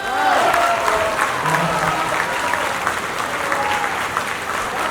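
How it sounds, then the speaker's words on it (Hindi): A hall full of listeners at a Hindi comic poetry gathering bursts into strong applause, a thick, sustained wash of many clapping hands with some voices underneath. "एक बार जोरदार पूरा सदन ताली बजाए।"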